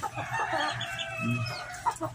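A 4.5-month-old fighting rooster, recovering after surgery for a chest lump, gives soft clucks and low throaty calls close by, steady and moderate in level with no talk over them.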